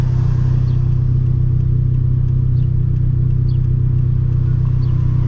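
A turbocharged Scion FR-S with its stock engine, over 350 horsepower, drones steadily while driving, a loud continuous low engine hum with building boost and no pauses throughout.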